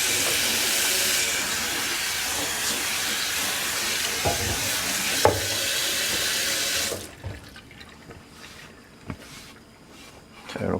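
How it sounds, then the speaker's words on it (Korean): A pot of spicy pork stew (dwaeji jjigae) with gochujang and green chili boils hard, a loud steady hissing bubble that cuts off after several seconds, followed by quieter simmering and a few kitchen clatters. "요 돼지찌개가 좀 간이 좀 잘 될 때까지 좀 포글포글 끓이도록 하겠습니다"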